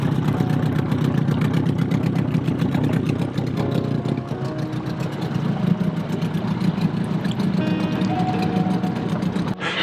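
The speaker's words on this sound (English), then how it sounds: "It's the first time that engine's ever been started" A brand-new outboard motor on a dinghy runs at a steady idle after its first start, a continuous close rumbling drone with slight fluctuations and no speech.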